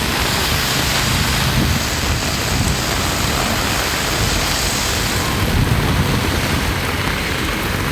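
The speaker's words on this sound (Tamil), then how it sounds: "சென்னையில் ஞாயிற்றுக்கிழமை காலை வெயில் சுட்டெரித்த நிலையில் பிற்பகலில் கனமழை பெய்தது." Heavy afternoon rain pouring down in Chennai after a hot morning, a steady, loud, broadband hiss of drops striking surfaces that continues without a break, close by and with no voices.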